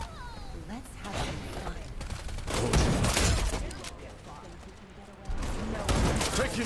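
Bursts of rapid gunfire and explosions from the video game Wild Assault, dense and loud in waves, with a voice speaking over parts of the action.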